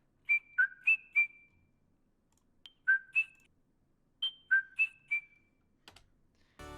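A clean, bright whistled melody from a produced music track, with short phrases repeated in three groups separated by silence, then a faint click and a brief noisy burst at the end.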